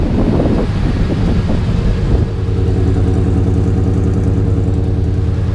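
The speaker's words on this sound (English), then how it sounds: "Let me show you the engine as it's running." A 1989 Chevy K1500 pickup engine idles steady and loud with a low rumbling drone, while wind buffets the microphone.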